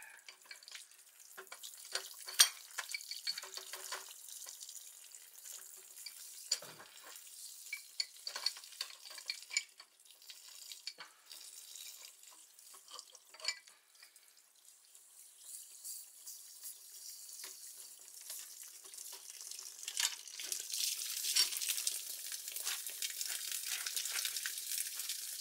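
Water drains through a hose from a boiler in a fire-damaged house, giving a quiet, continuous hiss and trickle with uneven surges and splashy gurgles that swell louder toward the end.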